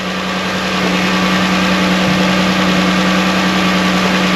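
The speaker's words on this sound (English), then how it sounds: "I got the vehicle running." A 2008–2020 Dodge Grand Caravan engine, suspected of a faulty oil pressure sensor, idles in a steady, loud, even hum with a constant low drone and no talking.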